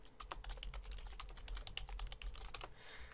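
Someone types on a computer keyboard while entering a VLOOKUP formula in Excel, a quick, steady run of close, crisp key clicks with no talking.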